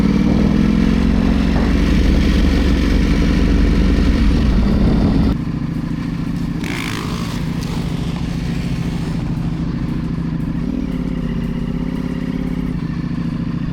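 A 2025 Ducati Panigale V4 S accelerates in race mode, a loud, close engine roar that builds, then drops to a lower steady drone with wind rush, no talking.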